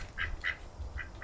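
Farmyard ducks quack in short repeated bursts, four clear calls about a quarter second apart, fairly close but soft against a quiet low background.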